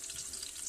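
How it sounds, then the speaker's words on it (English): Chopped onion sizzles in a pot, a soft continuous hiss of frying that stays faint and even throughout with no voices. "brown out as it sizzles in the pot."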